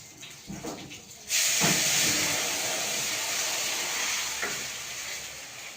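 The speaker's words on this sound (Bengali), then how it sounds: "এটা ইলিশের তেল ভাজা হচ্ছে।" Hilsa fish oil with nigella seeds fries quietly, then mustard paste goes into the pan and a loud, steady sizzle bursts up and continues close by.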